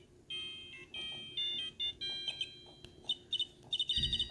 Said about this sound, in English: Oh, Mr. Nick, your phone.